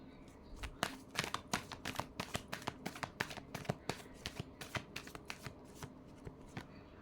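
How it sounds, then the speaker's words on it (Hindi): A deck of tarot cards being riffle-shuffled close up, a fast run of crisp flapping snaps that thins out toward the end, heard alone without speech. "last shuffle,"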